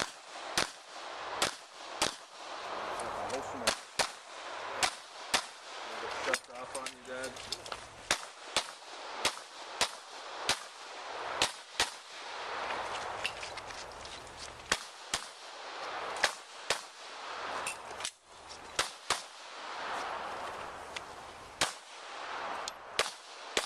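Sharp gunshots crack out one after another at a practical pistol shooting match, loud and close with uneven spacing between bursts, and a voice talks briefly in the gaps.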